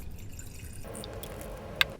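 Liquid cleaner poured from a bottle into a small jar, a close, soft trickle that begins partway through and ends with a sharp glassy clink, no voices.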